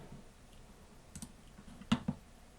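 A computer mouse clicks during a right click in an Excel spreadsheet: a few sharp, close clicks over quiet background hiss, with a quick double click near the end.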